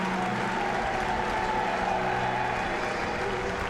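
A crowd at an FA Youth Cup quarter-final football match at Ashton Gate, Bristol City U18s against Swindon Town U18s, gives a sustained ovation as the players come onto the pitch, a dense wash of applause and cheering.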